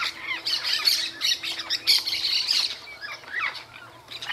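Parrots and parakeets squawk in a loud, busy flock by the São Lourenço River, harsh overlapping calls coming in bursts close to the listener as the birds feed.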